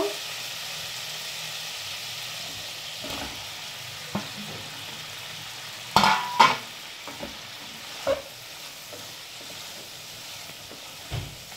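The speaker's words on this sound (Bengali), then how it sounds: "এখন আমি এর মধ্যে পটলগুলোকে দিয়ে দেব।" Pointed gourd fries in oil with cooked spices, giving a soft, constant sizzle punctuated by occasional scraping clatters as a spoon stirs the pan.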